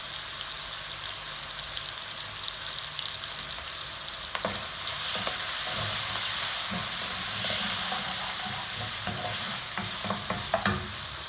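Chopped vegetables, green chillies and carrot, sizzle and hiss steadily in a hot pan while being sautéed, with a spatula scraping and tapping now and then toward the end, close up and with no talk.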